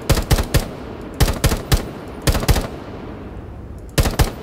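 AK rifle fire in Rainbow Six Siege rings out in sharp, loud clusters of two to four rapid shots, separated by short pauses, with no voices over them.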